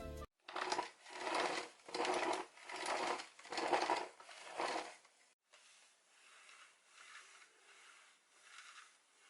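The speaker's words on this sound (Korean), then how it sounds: "X10의 브러쉬는 앞뒤로 밀어보면 소리가 심하지만 M500 퀀텀의 브러쉬는 상대적으로 매우 조용한 편입니다" A cordless vacuum's brush head is pushed back and forth in a steady rhythmic whir, loud strokes at first, then a much quieter, softer swishing continues from a Dibea M500 Quantum brush.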